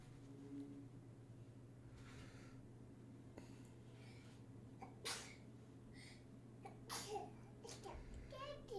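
A baby boy sneezes in a small, sharp burst near a game-streaming setup, amid soft babbling, breathing and low background hum, with a second short burst a moment later.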